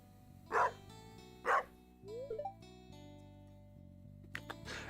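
The dog Dusty in the video game Stardew Valley gives two sharp barks over soft game music, followed by small game sound effects.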